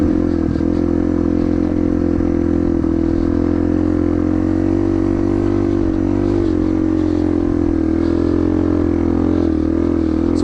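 A Yamaha TTR230 dirt bike engine drones steadily and loud throughout while riding, with a low rumbling tone and slight shifts in pitch, no voices.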